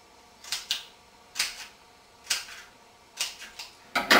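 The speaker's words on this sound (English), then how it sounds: "So I'm going to cut a couple of notches in the tube" Scissors cutting notches into the ends of a cardboard toilet paper tube, a series of crisp snipping clicks that come in pairs and small clusters with short pauses between, close by and quiet, with no talking.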